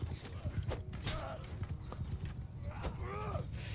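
Horses gallop in a video game battle with steady clip-clop hoofbeats, and several neighs and whinnies cut through the mix while someone talks over it.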